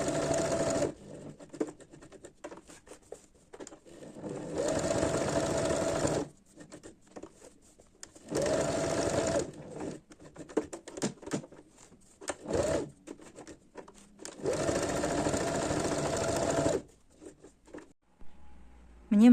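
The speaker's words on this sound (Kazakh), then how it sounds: "Қазір осы кішкене тігіп тастайын" A sewing machine stitches along the edge of an ornamental appliqué with straight stitching, running in several steady bursts of a few seconds each separated by pauses filled with small handling noises, close and fairly loud.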